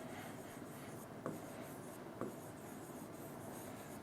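A word is written on a board, giving a faint, close scratchy rubbing throughout with two sharper strokes about a second apart and no voices.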